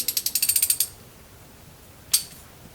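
A ratchet tightens a clamp on a 1965 Corvair: a quick run of about ten close, crisp clicks, then a pause and one more sharp click.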